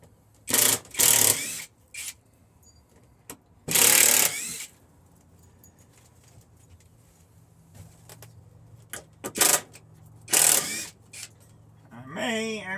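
A cordless drill fitted with a star bit backs screws out of wall studs in several short, whining bursts with pauses between them, and someone talks briefly at the end.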